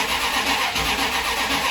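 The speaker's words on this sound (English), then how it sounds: "this car starts really well" A 1974 Jensen Interceptor's engine cranks and fires up promptly, settling into a steady, close, loud rumbling idle with a slight rev.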